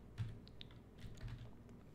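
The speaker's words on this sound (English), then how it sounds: "I'm just gonna type in the word shadow" Light typing on a computer keyboard gives a short, sparse run of soft clicks and taps at close range in a quiet room, with no voices.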